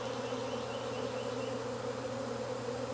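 A dense, steady buzz of many honeybees swarming out of an observation hive in Jacksonville, Florida, loud and continuous with no pauses and no voices.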